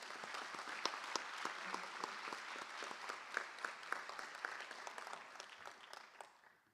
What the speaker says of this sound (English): Let's give Kaylee a round of applause.